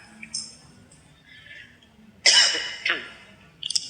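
Audience members cough and clear their throats during an evening philosophy lecture. Brief harsh bursts come at irregular moments, the loudest late in the clip, over a quiet room.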